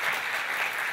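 Applause fills a legislative assembly chamber after a bill on research scientist careers is approved, heard as a steady, even wash of clapping from many people at moderate distance.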